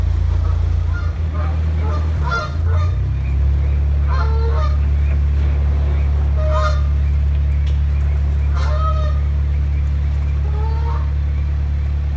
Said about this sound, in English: we've got Daddy Goose being noisy because we've separated him from Mum and the chicks